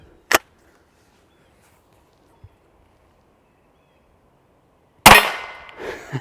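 A Baikal MP-18 shot hits a steel target and backstop, giving sharp isolated reports. One sharp crack comes first, then a faint tap, then a louder cracking impact with a ringing tail, all at a distance, with no talking.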